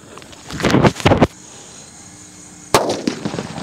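A Sound Marriage firecracker bursts for Diwali in a quick cluster of loud cracking pops, then a pause with faint hiss, and another sharp bang near the end.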